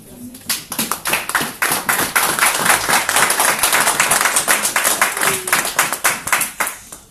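A church congregation claps and applauds together, a dense, lively rhythmic patter of many hands that swells quickly, holds steady for several seconds, then tapers off.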